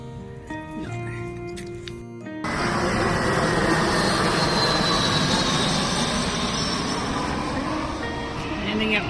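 A plane coming in to land at an airport roars overhead. The loud, broad jet rumble rises abruptly after a short stretch of other sound and then stays steady and close.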